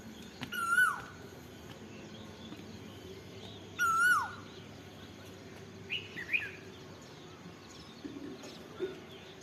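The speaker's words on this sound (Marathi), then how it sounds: "कोकिळ आली आहे वर" An Asian koel calls from a tree above a rural Maharashtra home, two clear sweeping whistled notes a few seconds apart, followed by fainter bird chirps over quiet background hiss.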